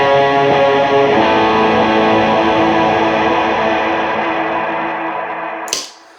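Electric guitar run through a Line 6 HX Stomp with the amp gain turned up, a dense distorted chord smeared by heavy delay and reverb that swells, then slowly decays before cutting off abruptly near the end.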